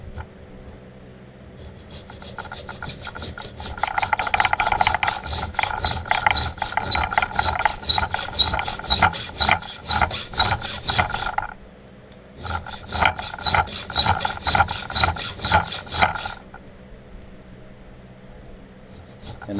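A file rasps rhythmically across soft, unhardened knife blade steel while cutting thumb studs, close and loud in quick back-and-forth strokes, pausing briefly before a second run of filing.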